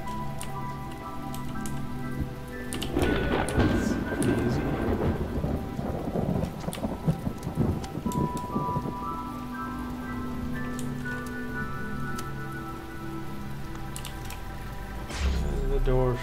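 Steady rain and rolling thunder from the video game The Talos Principle, with a sustained downpour hiss and a louder thunder rumble building early before easing back into continuous rainfall.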